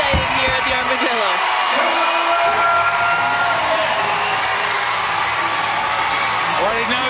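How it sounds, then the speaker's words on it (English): A crowd cheers and roars continuously at a Commonwealth Games weightlifting event in Glasgow, loud and dense throughout, with a commentator talking over the noise. "The crowd is really excited here at the Armadillo."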